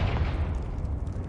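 A Confringo fire-blast spell cast in Hogwarts Legacy, a dense rumbling burst that stays loud and broad through its brief length, with a steady low roar underneath.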